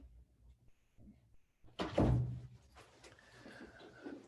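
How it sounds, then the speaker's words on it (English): An office door is swung shut with a single solid thud and rattle, preceded by soft footsteps and followed by a brief settling creak in a quiet room. "I'm just going to close my door."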